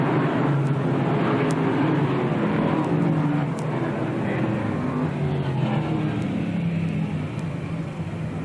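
Sportsman race cars on the speedway at Lebanon Valley, engines droning continuously at a steady loud level, with a low rumble and shifting pitch as the cars circulate, no voices over them.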